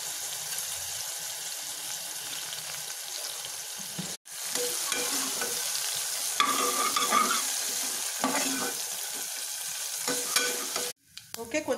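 A tempering of curry leaves, dried chillies and fenugreek seeds sizzles and crackles in hot oil for tamarind rasam, with steady frying hiss, stirring scrapes and two brief breaks in the sound.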